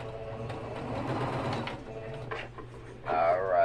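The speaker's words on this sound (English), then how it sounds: "And then I'm going to sew it down." A sewing machine stitching fabric in a short run of fast mechanical whirring and clatter, followed by a louder whining burst near the end.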